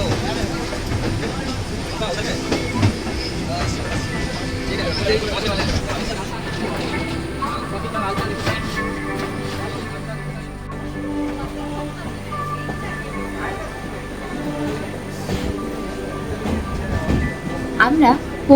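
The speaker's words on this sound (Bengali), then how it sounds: "আমাদের ট্রেন এখন মহানন্দা নদীর উপর দিয়ে যাচ্ছে।" A train rolls over a bridge across the Mahananda river near NJP in North Bengal, with a steady rumble of wheels and carriage noise. Passengers chatter and babble throughout, and there is a brief louder clatter at the end.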